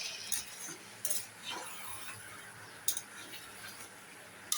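Salted chicken pieces are stirred in a cooking pot with a metal spoon. Quiet, scattered clinks and light scrapes sound against the pot at irregular intervals, with no one talking.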